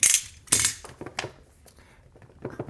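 A cheap blade slices the seal on a sealed OnePlus 10T phone box, producing sharp close clicks and scraping bursts, loud with short gaps between them.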